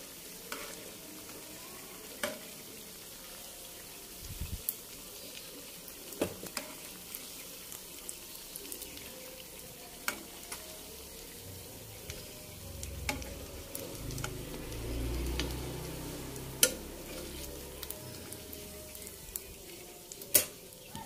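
Fermented cassava fritters frying in hot oil, a faint steady sizzle running throughout with scattered sharp clicks and pops, and a brief swell of louder bubbling midway, no one talking.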